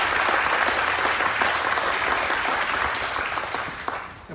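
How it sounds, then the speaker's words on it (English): At a Medal of Honor ceremony, a crowd gives sustained, even applause honoring a cemetery support committee, dense clapping that slowly tapers near the end. "let's give Paul and the Riverside Cemetery Support Committee a big round of applause"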